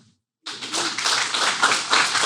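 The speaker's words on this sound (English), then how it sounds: "We can clap for that." An audience applauds a reading milestone at a podcast gathering, with claps starting abruptly after a brief silence and carrying on as a dense, even burst.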